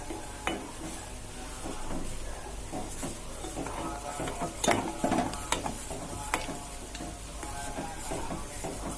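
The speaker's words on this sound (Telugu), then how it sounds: "ఇలా కలుపుకున్న పౌడర్ని పాలల్లో వేసి మరిగించుకుందాం." Milk with custard powder mixed in heats in a pan and is stirred, giving soft scraping and clinking of a spoon against the pan over a low bubbling hiss, fairly quiet and close, with no talk.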